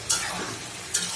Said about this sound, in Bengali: দেখেন, আমার গোশগুলো কষানো হতেছে।